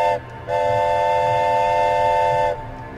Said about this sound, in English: Does this train have a motion detector? This battery-driven toy?